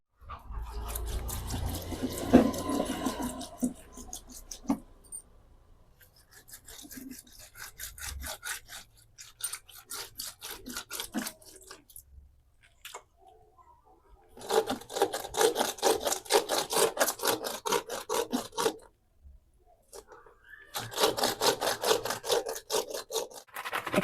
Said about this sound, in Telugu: ఇట్లా శుభ్రంగా రుద్దుకోవాలి బండకేసి.